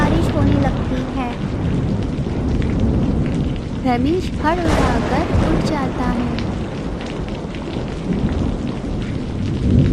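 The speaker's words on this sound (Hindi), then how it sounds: "एक दिन रात में जब रमेश सो रहा था, तेज बारिश होने लगती है।" Heavy rain pours steadily with rumbling thunder, while a voice speaks over the downpour.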